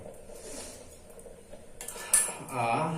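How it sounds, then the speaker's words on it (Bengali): A spoon clatters against a pan while stirring soybean curry with added spices, starting as a faint background murmur and rising into a couple of louder metallic scrapes and clinks near the end. "এবার একটু নেড়ে নেব"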